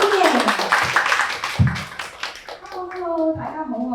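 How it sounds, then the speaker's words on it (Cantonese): An audience at a parenting talk applauds to welcome a speaker: a short burst of scattered clapping, followed by voices toward the end. "掌聲歡迎！"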